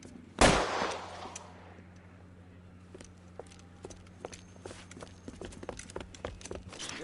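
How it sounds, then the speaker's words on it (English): A single sharp gunshot cracks out loud near the start in the crime video game L.A. Noire, followed by a quieter stretch of scattered clicks and thuds over a low steady hum. "Hey, look, old man, we're sorry. Just quit shooting."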